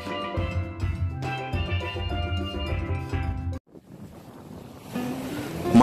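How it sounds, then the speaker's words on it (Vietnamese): A speedboat ride over ocean waves near Hon Ba island off Lagi, Vietnam: music fades out, then rushing wind and churning water build steadily, growing loud and close toward the end. "Một chuyến đi cano đầy cảm giác,"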